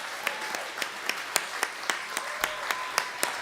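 Slow, evenly spaced claps, roughly one every quarter second, ring out in a room at the San Diego Music Hall of Fame induction ceremony, a single steady clapper rather than a full crowd, with faint voices underneath.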